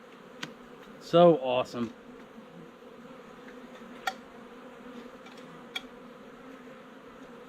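Honey bees from a colony rescued out of a storm-felled tree hum as a steady low drone, with a few sharp clicks over it and a brief spoken exclamation near the start.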